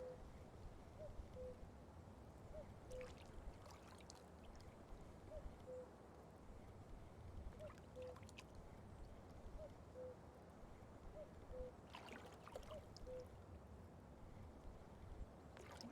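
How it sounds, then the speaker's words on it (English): Inside the fishing game Russian Fishing 4, a soft two-note cuckoo-like call repeats at even intervals of about two seconds, faint and distant over quiet outdoor ambience of wind and water. "Is there a fucking cuckoo clock out here?"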